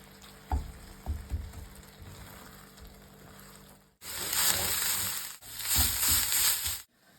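Meat filling fries in a pan with light clinks and stirring at first, then bursts into loud, dense sizzling in two long stretches, close and with no talking.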